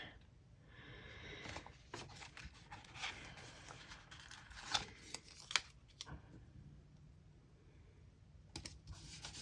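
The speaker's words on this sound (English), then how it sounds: "I'm going to have to cut it and punch it now" Scissors snipping a planner sticker while journaling: faint, quiet snips and crisp paper rustles, with a few sharper clicks in the middle and near the end.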